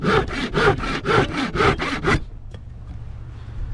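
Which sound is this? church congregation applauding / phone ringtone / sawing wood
sawing wood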